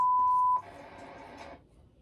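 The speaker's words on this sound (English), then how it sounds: "Why did they beep his name out?" A single steady censor beep sounds for about half a second, followed by a brief burst of muffled, garbled sound.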